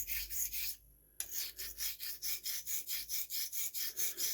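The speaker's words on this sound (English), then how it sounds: "I'm going to use this very coarse stone just on the nose" Straight razor rubbed on a very coarse honing stone, about twenty even rasping strokes in steady rhythm, close and alone, with one short pause early on.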